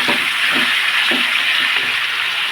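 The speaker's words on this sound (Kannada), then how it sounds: "ಸ್ವಲ್ಪ ಶುಂಠಿ ಬೆಳ್ಳುಳ್ಳಿ ಪೇಸ್ಟು ಮತ್ತು ಅರಿಶಿನ ಪುಡಿ ಹಾಕೊಂಡು ಚೆನ್ನಾಗಿ ಹುರ್ಕೋಬೇಕು" Loud, steady sizzling hiss of ginger garlic paste and turmeric frying in a pan for palak chicken, with faint stirring scrapes at a slow, regular beat.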